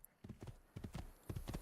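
Horse hooves clop in quick uneven clusters of beats on a hard surface in the Assassin's Creed video game, fairly close and heard alone without talk.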